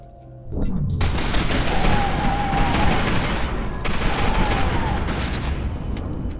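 Sustained gunfire and grenade explosions in the shooter game FEAR 2 erupt after a brief quiet start and continue as a dense, loud roar of overlapping blasts and shots.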